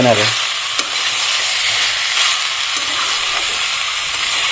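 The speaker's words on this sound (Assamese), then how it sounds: "এতিয়া মজাকৈ অলপ সময় ভাজবা লাগব" Steady, loud sizzling of duck meat frying in a wok, with a couple of sharp scrapes as it is stirred.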